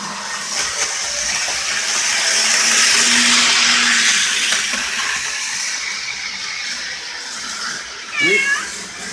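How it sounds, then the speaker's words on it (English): A cat lets out one loud, close meow near the end, rising then falling, over a steady whooshing background hiss. "here's Harry the Cat."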